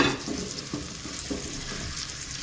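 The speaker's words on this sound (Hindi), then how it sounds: "अब इसमें हम अनियन ऐड करते हैं और इसे लाइट गोल्डन होने तक के लिए फ्राई करते हैं।" Onions frying in a pan toward light golden make a steady, close sizzle with a few soft stirring scrapes, and no one speaks.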